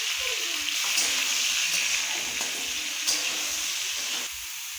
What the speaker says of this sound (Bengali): ভাজার জন্য বসিয়েছি একটু লবণ, একটু হলুদ গুঁড়ো দিয়ে দিলাম